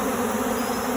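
Robber bees swarm a bear-damaged beehive in a loud, dense, continuous buzzing roar that fills the whole moment.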